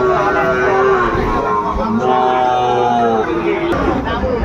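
Sahiwal cattle low at a livestock market in Ambari, with drawn-out tonal moos over constant crowd chatter and market noise.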